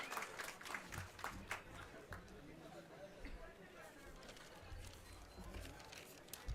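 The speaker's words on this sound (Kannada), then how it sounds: "ದಯವಿಟ್ಟು ಜೋರಾದ ಚಪ್ಪಾಳೆಯೊಂದಿಗೆ ಅವ್ರನ್ನ ಅಭಿನಂದಿಸಬೇಕು ಅಂತ ಕೇಳ್ಕೊತಾ ಇದ್ದೀನಿ." An audience claps at a felicitation ceremony where ministers are honoured with shawls. The scattered applause is moderately distant and sits under a voice talking.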